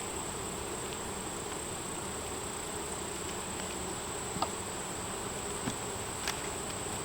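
Bees buzz in a steady, close drone around an open beehive during an inspection, a constant hum with a few brief ticks, and no talking.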